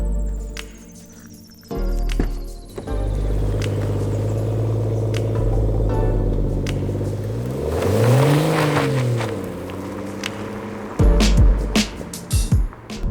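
BMW M240i driving down back lanes, its engine note rising and falling as it pulls away and shifts, heard from inside the car, with tyre and road noise and a few knocks near the end.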